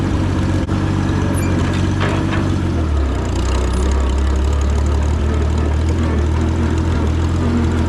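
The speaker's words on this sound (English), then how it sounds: "It's literally running on whatever the carburetor's set at" An antique Oliver Super 77 tractor engine runs unloaded at carburetor-set speed, a loud, steady low-pitched chugging drone that stays close and continuous throughout with no voices.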